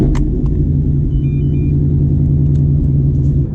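A supercharged 2018 Ford Mustang GT V8 rumbles loudly and steadily up close, a deep continuous idle-like drone running for several seconds before easing off at the end.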